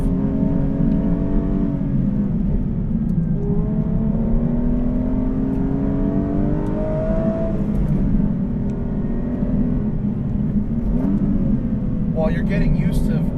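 An Aston Martin V12 Vantage S with a manual gearbox pulls out of a corner from around 4,000 RPM, its V12 droning steadily and rising in pitch as it accelerates, heard from inside the car.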